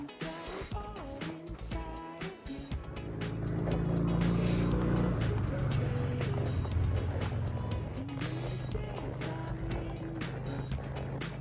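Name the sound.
cars passing by on the road overhead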